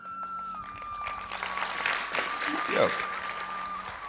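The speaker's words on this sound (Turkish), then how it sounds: "Alkışa değmez." Audience applause rises and falls steadily under a voice at a Turkish religious talk, with a faint tonal hum running through.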